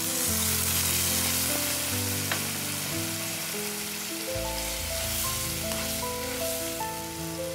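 A pan of omelette curry sizzles loudly and steadily after a little water is added, a dense crackling hiss heard close up, with soft melodic music playing beneath it.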